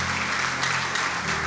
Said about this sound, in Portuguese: Aplauda bem forte a palavra de Deus.